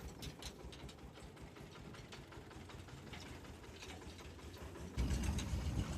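A tractor engine runs with a low, steady chugging rumble and rapid mechanical rattle, faint and continuous, growing noticeably louder for the last second.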